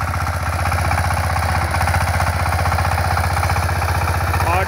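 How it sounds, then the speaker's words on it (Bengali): Steady, loud chugging from a 20 hp Dongfang power tiller's engine pulling a rotary tiller that sows jute seed, a close, continuous single-cylinder thump with a faint voice briefly audible near the end. "পাওয়ার টিলার চালাচ্ছে আমাদের পাওয়ার টিলার ইঞ্জিনিয়ার"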